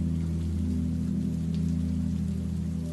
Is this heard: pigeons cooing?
no